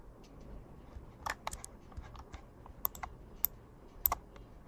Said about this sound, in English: I'm going to click on T on my keyboard and type watch